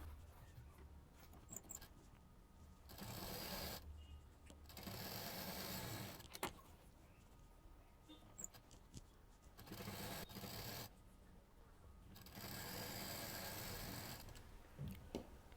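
A sewing machine stitches the bottom of a fabric bag in several short, faint runs of rapid mechanical chatter separated by brief pauses, close by and quiet.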